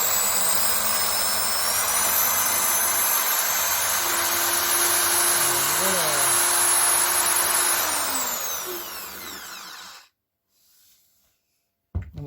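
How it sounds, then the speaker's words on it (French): Electric drill running on a 12V circuit, a loud steady whine held for about ten seconds, with pitch shifts partway through, then cut off abruptly into near silence. "Alors, si je branche la perceuse,"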